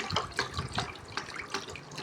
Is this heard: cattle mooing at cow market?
no